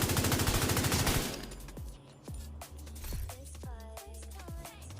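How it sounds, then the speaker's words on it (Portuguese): Rapid automatic gunfire in the shooter game The Division 2, a fast burst of shots opening loudly before giving way to scattered single shots and clinks over the next few seconds, with no voices. "Então, vou atirar aqui, ó, para mostrar para vocês."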